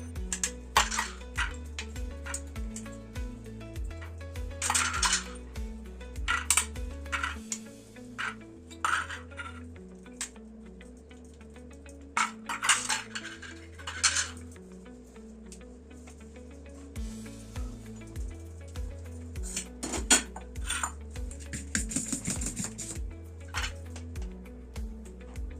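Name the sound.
metal idli plates handled while filling with batter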